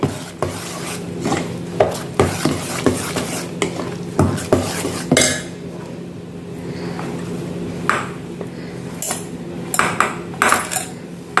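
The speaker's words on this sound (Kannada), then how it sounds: "ಹಾಕಿ ಸ್ವಲ್ಪ ಸ್ವಲ್ಪ ಹಾಕಿ ಒಳ್ಳೆ ಮಿಕ್ಸ್ ಮಾಡಿ" Coarse rice batter being mixed in a metal vessel for a jackfruit kadubu, with repeated scraping and rasping strokes and sharp clinks of utensil against the pot, loud and close, pausing briefly midway before resuming.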